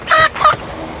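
Chickens with chicks give two quick, close clucking calls in a brief burst, loud and clear against quiet background.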